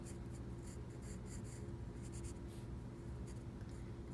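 Pencil scratching and scraping across paper while sketching a still life of a cup, a steady close scratchy texture with brief brighter strokes, heard alone without talk.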